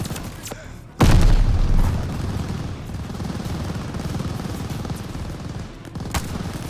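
Gunfire in the video game Call of Duty Vanguard: one loud sharp shot gives way to a sustained rattling burst of fire and rumble, with a few fainter cracks later.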